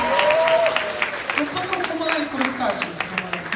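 An auction audience applauds a bid. The steady clapping runs under the auctioneer's voice, which keeps talking throughout.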